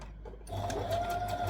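A sewing machine starts up and stitches fabric for a Tulip Tee, a soft steady whir beginning after a brief quiet pause and running close by.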